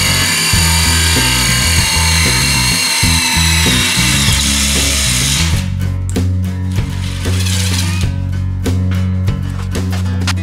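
A power drill loosens screws on a hose reel mount in a tractor shop, sounding in loud, steady whirring bursts with short pauses between runs, close up and without talk.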